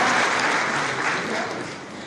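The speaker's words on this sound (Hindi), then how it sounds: "तालियां बजा के स्वागत करो" Thick, continuous applause from a large crowd at a public government housing event, welcoming a resident who built a home in 50 days; loud and sustained, gradually easing, with no talking.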